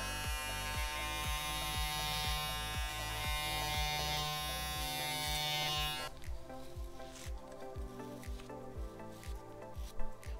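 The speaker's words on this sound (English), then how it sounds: "I'm keeping this side of the clipper off the head, and I'm just going round with this corner of the guard on the head there" An electric hair clipper fitted with a guard buzzes steadily while tapering hair, with rhythmic dips as it passes over the head, then shifts to a lighter, scratchier trimmer sound for the second half.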